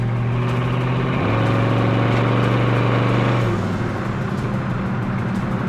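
Corvette resto-mod with Z06-spec suspension accelerating hard in third gear, a loud steady engine roar that climbs in pitch for a couple of seconds, then drops back as the throttle eases.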